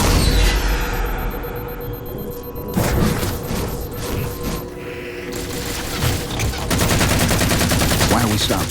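Dense gunfire and explosive booms from the video game Halo 4 keep up a loud, continuous barrage of overlapping shots, with a sharper burst of rapid fire near the end.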